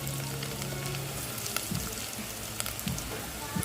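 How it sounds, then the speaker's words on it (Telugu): Masala spices frying in a pan: a steady, soft sizzle runs throughout at moderate level, with occasional light taps and stirring noises and a voice speaking faintly beneath. "వావ్ మసాలా కూడా వేగిద్ది"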